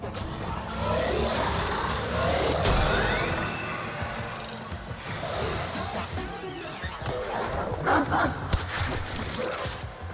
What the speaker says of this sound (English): Oh, nice doggy.